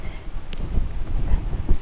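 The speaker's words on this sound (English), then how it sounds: "sorry about the wind" Outdoor wind gusts buffet the microphone beside a fig tree wrapped in a rebar-supported teepee, a steady low rumble that swells in short puffs throughout, with no other sound standing out.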